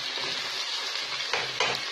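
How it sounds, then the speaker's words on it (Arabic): Large slices of onion frying with veal in a hot pan give a steady, close sizzle, with a couple of louder crackling bursts near the end. "في المرحلة هذه نضيفو البصل، البصل قطعتو شرائح كبيرة، ونزيد نخليه يطلق"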